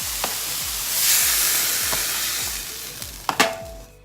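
Meatballs sizzle and crackle steadily in a hot frying pan, with a few sharp clinks and scrapes of a utensil against the pan near the end.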